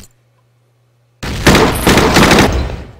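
Bursts of rifle and machine-gun fire ring out in the World War II strategy game Battle Academy, a loud volley after a brief silence and then sustained crackling shots that fade out toward the end.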